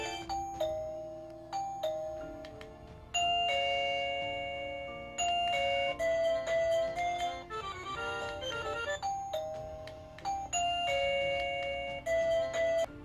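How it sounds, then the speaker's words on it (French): An Arenti video doorbell's indoor receiver plays a series of bright electronic chime melodies, each tune ringing out clearly and decaying before the next starts, with no talking. "Le premier au centre va vous servir à entendre la sonnette que vous avez mise en place."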